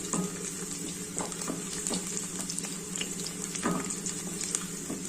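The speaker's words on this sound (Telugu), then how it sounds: "ఇప్పుడు ఇది పోపు వేసుకున్నాను ఎల్లిపాయలు కొంచెం చాలా ఉండాలండి" Garlic tempering sizzles steadily in hot oil for a curry of broad beans, with a continuous fine crackle and a few louder pops. The sound is close and no one speaks.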